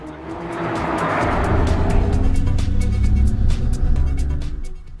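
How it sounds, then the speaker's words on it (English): A Mercedes-Benz CLA 45 AMG on a race track, its raucous engine building to a loud, sustained roar with rapid gear-shift pulses, close and continuous without talk. "how that raucous engine note really pushes you to push the car"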